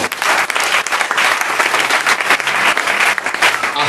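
A church congregation applauds, a dense, steady roar of clapping that stays loud and unbroken throughout.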